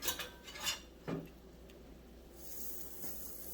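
A spatula scrapes and clinks under a keto chicken quesadilla made with an Egglife wrap in a skillet: a few close metallic scrapes, then a soft sizzle rises toward the end, no voices.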